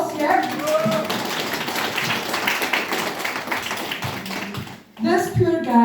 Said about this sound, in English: yeah, round of applause, yeah.